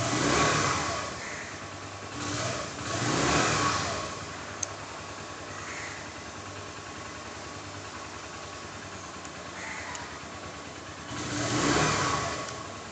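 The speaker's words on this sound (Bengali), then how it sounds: "স্টার্ট দিয়ে আপনাকে সাউন্ডটা একটু ক্লিয়ার করে শুনিয়ে দিই।" Keeway RKS 125 motorcycle engine idling close by, with several throttle blips that swell into revs and fall back, a larger rise near the end, and no voices over it.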